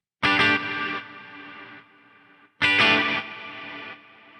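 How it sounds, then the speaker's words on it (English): Two strummed guitar chords ring through a distorted effects chain, each one loud at first and then stepping down in level as a sawtooth-driven pulse ducks the reverb and the tail fades naturally, with no voices. "so it's pulsing that reverb, it's ducking it, and then the reverb itself is just naturally decaying"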